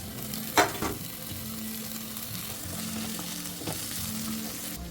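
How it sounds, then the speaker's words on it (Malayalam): Onion, tomato and green chillies frying in a pan for prawn biryani, a steady low sizzle with a couple of brief stirring scrapes near the start, no voices. "അതിലേക്ക് തക്കാളിയും പച്ചമുളക് ഇട്ട് കൊടുക്കുന്നുണ്ട്"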